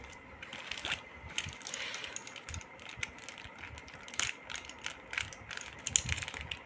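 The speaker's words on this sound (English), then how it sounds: "Let's use the cutter properly. I don't want to damage the book." A cutter works open a book package in close, quiet bursts of scraping, clicking and crinkling, irregular and sharp, with small gaps between strokes.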